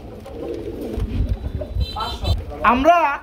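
Pigeons kept in a market or loft, a pair with young, cooing in soft bursts close by, with a louder warbling call near the end over background chatter and rustling.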